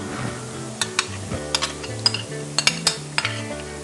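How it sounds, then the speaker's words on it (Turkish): Tomato paste being stirred into a pot of beans, a spoon scraping and clinking against the pot in short irregular strokes over a soft simmer, close and distinct, with music in the background. "Salçamızı da iyice karıştırıyoruz"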